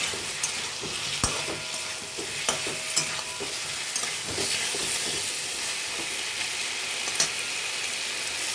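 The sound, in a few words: sautéing and stirring gathi kochu (taro) curry in a pan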